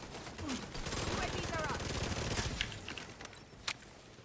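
Rapid bursts of submachine gun fire in a shooter video game rattle in quick, dense sequences, with one sharp isolated shot near the end.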